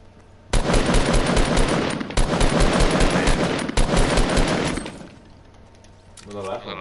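Rapid automatic gunfire in the video game Fortnite, loud and close in three sustained bursts separated by brief gaps, fading to quieter ambient game sound at the end.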